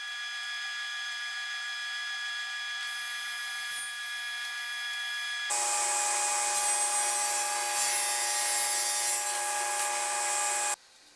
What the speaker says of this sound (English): I'll cross-cut them to length using a stop block and my panel sled